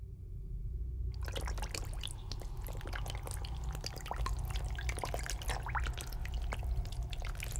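Water dripping and trickling off a lotus leaf, a quiet start giving way to a steady stream of small, close drops and patters with a soft liquid flow underneath.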